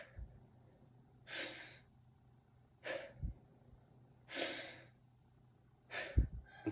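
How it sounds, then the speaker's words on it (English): Short, forceful breaths taken in a fast, rhythmic breathing exercise. Four or five distinct breathy bursts come in an even pulse and are heard close and alone, with no talking. "pick up the tempo, short rhythmic breaths like this"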